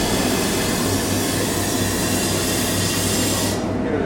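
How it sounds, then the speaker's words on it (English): Cafe steamer hissing steadily as milk bottles are steamed, a loud continuous rushing whoosh with a low hum beneath, cutting off just before the end. "take the lid off, and two, pop it in the steamer"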